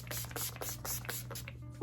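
Urban Decay Quick Fix face spray misted onto the face in a quick run of short, close spritzes, about seven puffs in under two seconds, with no talking.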